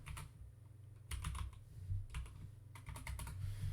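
Keys clatter on an Apple II computer keyboard in quick irregular bursts of clicks with short pauses between, close and fairly quiet, no voices.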